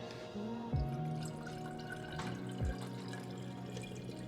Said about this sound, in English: So I'm going to pour this into this jar.